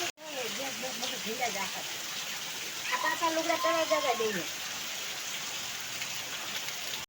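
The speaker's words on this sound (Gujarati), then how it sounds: "વધ્યો વરસાદ ફૂલ થઈ ગયો અટાણે" Steady heavy monsoon rain pours down over a village, a dense even roar, with a person speaking briefly over it near the start and again midway.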